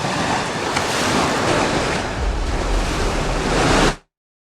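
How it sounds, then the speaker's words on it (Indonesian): Large waves at sea pounding a boat in rough weather, a loud, continuous roar of churning water and wind with heavy low surges, cutting off abruptly after about four seconds. "Gelombang besar menghantam perahu mereka dan mereka terpisah"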